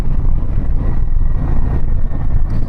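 A Harley-Davidson Street Glide cruises along the road, its low engine drone steady and loud beneath heavy wind rush, heard close from the rider's seat without any speech.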